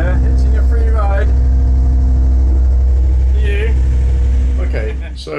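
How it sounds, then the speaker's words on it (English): A fishing boat's engine runs loud and steady at sea on a wreck-fishing trip, a constant low drone filling the clip while voices speak over it. "the engine noise is so loud you can hardly hear"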